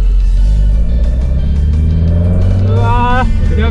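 A carbureted Mazda Roadster pulls away from rest, its engine rumbling steadily, then revving up with a rising, loud throaty pitch, heard close from inside the car.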